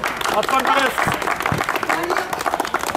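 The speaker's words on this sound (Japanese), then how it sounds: "チーム名をお呼びしますので、拍手を皆さんぜひお願いします。" A crowd applauds at a futsal team ranking announcement, uneven clapping that swells and fades while an announcer speaks over it.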